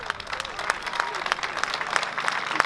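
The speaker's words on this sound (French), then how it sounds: "Je vous demande d'applaudir très fort Monsieur Alain Barouchy qui nous entend" A crowd outdoors applauds at a running-event gathering, steady scattered clapping with distinct sharper claps standing out, moderately loud, with murmuring voices underneath.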